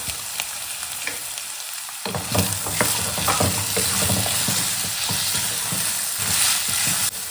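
A cup of peas drops into a hot pan over ginger-garlic paste, setting off a sudden loud sizzle and frying, followed by repeated scraping strokes of a spoon stirring, steady and close, with no voices.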